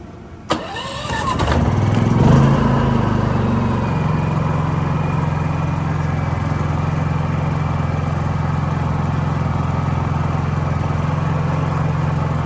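Champion dual fuel inverter generator with its access door off, pulled to a start with a sharp crank, then settling into a loud, steady running drone that holds on alone.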